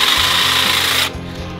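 iMAX IMHT-001GT cordless hedge trimmer buzzes loudly with a rapid reciprocating chatter while cutting shrub branches, then drops to a lower, softer whir after about a second.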